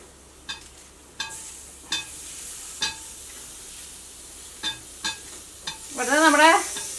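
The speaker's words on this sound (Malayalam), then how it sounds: "അപ്പൊ ഈ തക്കാളി ഇടാട്ടെ." Tomatoes are dropped into hot oil in a pan and stirred, giving a steady faint sizzle punctuated by about eight sharp spoon-on-pan clinks, then a louder burst of frying and scraping at the end.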